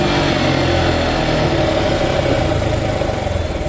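A Suzuki Gixxer motorcycle engine runs loud and close, a steady throbbing drone that holds at high revs throughout with slight wavering, no voices over it.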